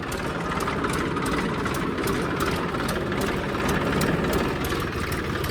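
An old Swaraj 855 farm tractor's diesel engine idling in a field, a loud, steady, close-up chugging rumble with even rapid knocks and no talk.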